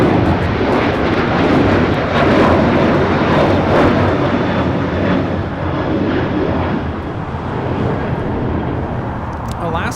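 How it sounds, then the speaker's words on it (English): Alaska Airlines Boeing 737-800 taking off from LAX bound for Seattle, a loud rolling jet roar that rises and pulses as power builds, with someone talking over it. "Alaska Airlines 1147 taking off to Seattle on the 737-800."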